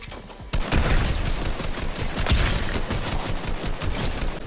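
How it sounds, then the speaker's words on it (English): Gunfire in Fortnite Chapter 2 comes as a dense, loud fusillade of rapid overlapping shots with booming impacts, sustained after an abrupt start. "Who are you shooting at?"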